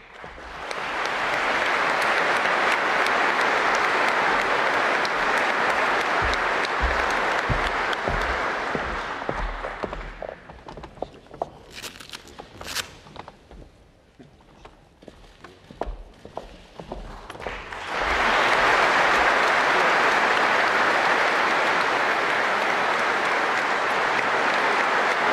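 Loud, sustained applause from an audience at a military rank-awarding ceremony with the president, dense clapping for about ten seconds, thinning into scattered claps, then swelling again to a full round.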